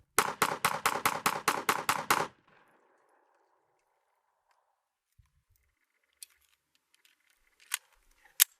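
A Smith & Wesson M&P2.0 Metal Carry Comp 9mm pistol firing 115 grain Blazer rounds lets off about nine loud, rapid, evenly spaced shots, followed by near silence with a few faint scattered clicks and a couple of sharp ticks.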